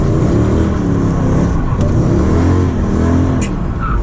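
Mercedes CLS 55 AMG V8 engine roaring continuously while drifting, loud and close with sustained revving and fluctuating pitch, no talk.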